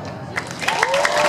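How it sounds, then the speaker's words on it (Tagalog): An audience at a Las Vegas show claps to vote for a contestant, a short burst of applause with some crowd noise and a faint whistle, steady and fairly close. "If you like this guy, just clap your hands."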